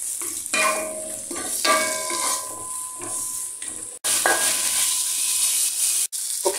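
Fried rice with prawns and boiled beef is stirred in a hot pan for Thai-style pineapple nasi goreng, with close spatula scrapes and bursts of sizzling that pause briefly twice.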